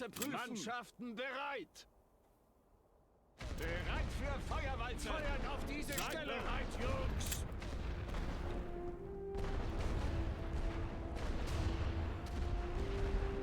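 Artillery barrage in The Great War: Western Front, with booming blasts and crackling fire behind a voice talking, a brief quiet gap early on, then steady rumbling explosions throughout.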